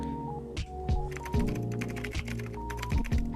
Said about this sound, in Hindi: we have a very nice typing effect in our text